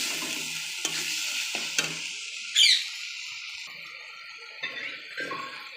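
A ground spice mix of salt, turmeric, chili powder, cumin and coriander sautés in a pan for pickle, a hissing sizzle punctuated by a few sharp spoon scrapes and knocks that fades toward the end.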